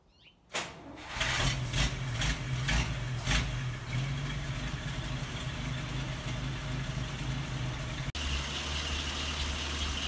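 A 1938 Chrysler car engine catches and settles into a steady, slightly uneven idle up close, running loud and continuous with a brief drop near the end, no voices over it.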